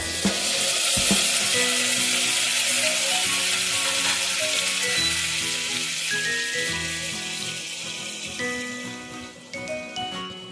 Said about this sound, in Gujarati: એકદમ સરસ ટમેટું સતળાઈ ગયું છે